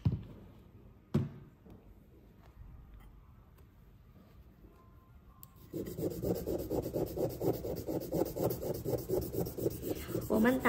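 Computer-carved Hetian jade being polished by hand with sandstone: a few quiet scrapes, then steady rhythmic rasping strokes that grow louder and continuous from about halfway through, close to the work.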